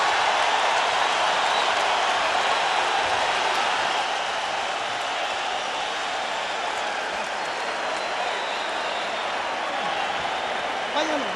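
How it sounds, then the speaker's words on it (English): Broad, steady roar of a boxing crowd at Staples Center cheering and applauding at the end of the 11th round of the Erik Morales vs. In Jin Chi bout, dense and continuous throughout. "The crowd comes alive here at Staples Center."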